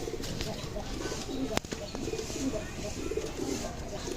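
Pakistani teddy pigeons cooing in a loft, soft repeated low coos close by, with a sharp click and faint background chatter mixed in.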